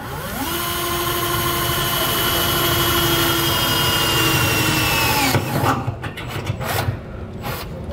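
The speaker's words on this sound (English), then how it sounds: "Go ahead and make your pilot hole." A power drill whines steadily at high speed for several seconds drilling a pilot hole in a 2022 GMC truck bed, then cuts out into a few short, rough bursts of grinding and rattling.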